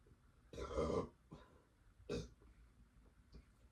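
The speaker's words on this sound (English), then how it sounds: "those were some microphone worthy burps" Two loud, close burps, the first long and deep, the second shorter, followed by faint breathing sounds.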